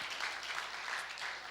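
A church congregation claps together in a short, continuous burst of hand claps, evenly dense and moderately loud throughout.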